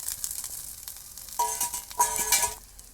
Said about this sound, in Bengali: এবারে আমি এই যে ভাজা মাছগুলো এবার এর ভিতরে দিয়ে দেবো